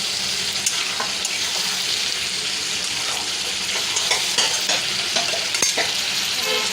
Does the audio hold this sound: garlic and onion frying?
yes